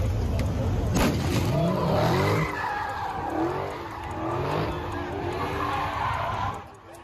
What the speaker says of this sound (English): Large crowds of people were seen gathered around cars, doing donuts across several intersections